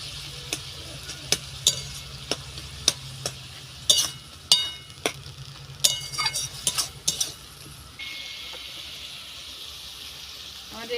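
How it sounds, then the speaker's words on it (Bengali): Khesari pea greens being stirred and fried in a pan with a metal spatula, sharp scraping clicks repeating at an irregular pace over a low steady sizzle, fairly close, no talk. "একটু খুন্তি দিয়ে ভালো করে একটু ভেজে নেব এটা"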